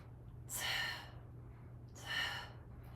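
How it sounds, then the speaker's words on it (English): Two deep breaths, each drawn in and let out during a Tibetan yogic rites exercise, close and audible over a steady low hum with quiet gaps between them. "I'm doing a different breathing because this moves much faster"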